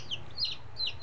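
Hens and chicks being looked after on a farm give a couple of brief, close clucking calls in about a second, with a faint low rumble underneath and no speech.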